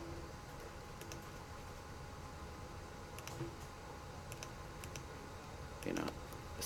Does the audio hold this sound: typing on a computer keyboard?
yes